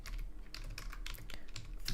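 Rapid clicking of computer keyboard keys while coding JavaScript, an uneven run of close, crisp keystrokes with no talking.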